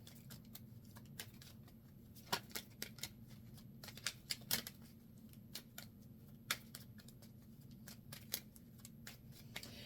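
Tarot cards are drawn from a deck and laid out, giving quiet, irregular crisp flicks and taps close by, with brief sharp snaps scattered over a low steady hum.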